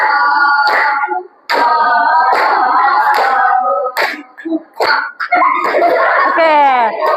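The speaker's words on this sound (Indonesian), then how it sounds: "kita akan melihat yel-yel dari kelompok 1 terlebih dahulu" Group 1 of students performing a yel-yel clapping chant in a classroom, young voices chanting and singing in rhythmic bursts, broken by sharp hand claps, with a short pause partway through and a rising sung phrase at the end.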